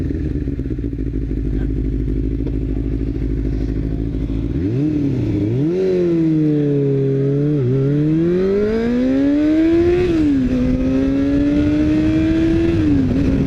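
A Yamaha R6 motorcycle engine runs loud and close while riding, droning steadily before revving up and down through several rising and falling pitch sweeps.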